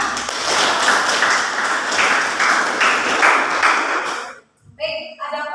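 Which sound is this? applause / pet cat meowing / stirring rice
applause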